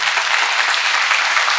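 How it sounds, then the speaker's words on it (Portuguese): A church congregation claps together in a dense burst of applause, steady and fairly loud throughout. "Pode aplaudir, Jesus vem forte."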